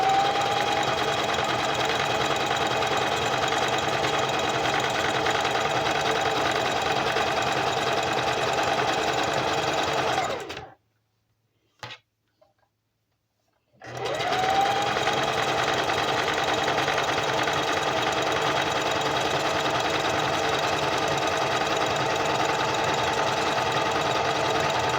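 Sewing machine stitching fabric, a steady close motor whir with rapid needle chatter that runs continuously, cuts out briefly for a few seconds of near silence, then resumes at the same pace.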